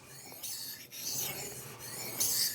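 A KN Knives Master Hunter blade stroked across a whetstone to raise a burr, soft close rasping strokes in an even rhythm, quiet and without talk.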